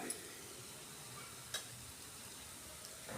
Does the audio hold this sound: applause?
no